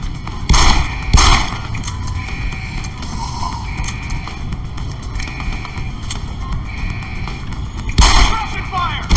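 Rapid gunfire in the video game Deus Ex: Human Revolution comes as sharp, loud bursts at the start and end, with steady game ambience and a faint repeating tone between them.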